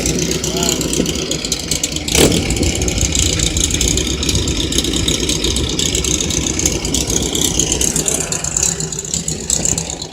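Car engines at an outdoor car show, a continuous idling and revving rumble with a brief louder burst early on, under steady crowd chatter and nearby voices.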